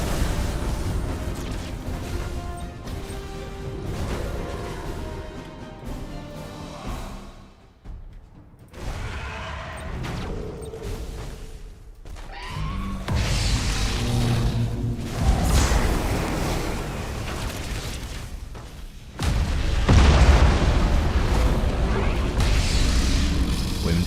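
Explosions from proton torpedoes striking an escort ship in the space strategy game Battlefleet Gothic Armada 2, heavy rumbling booms and bursts rolling continuously, with a brief lull and then a louder, deeper blast near the end.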